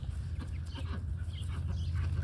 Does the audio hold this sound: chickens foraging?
yes